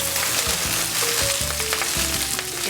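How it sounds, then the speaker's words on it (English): Spinach sautés in a little hot oil in a pan for a Mediterranean fish dish, giving a loud, steady sizzle broken by scraping stirring strokes, with no voices. "We just want nicely wilted, quickly sauteed spinach."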